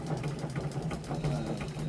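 A sewing machine stitching a bag runs in a steady fast mechanical whir with a low motor hum, continuous and close, with no talking over it.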